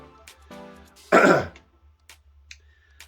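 A single close, gravelly throat clearing with a short cough sound rises out of a quiet room, preceded by a faint murmur.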